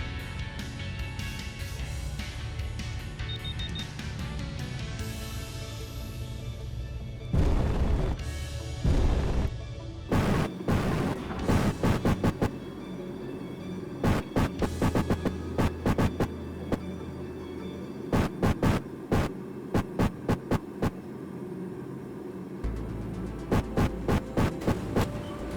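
A grinder chews through a wreck in the space-survival game Space Engineers, a steady throbbing hum joined after a few seconds by a rapid run of loud crunching bursts that keep repeating to the end.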